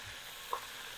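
Morcon frying in a small pan, a faint, steady sizzle with one brief clink or tap near the middle, close by and without speech.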